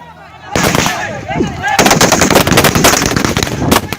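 Bursts of machine gun and rifle fire from a platoon carrying M60s and Galil rifles, loud rapid cracks erupting after a quiet start and continuing densely throughout, with distant-sounding reverberant shots.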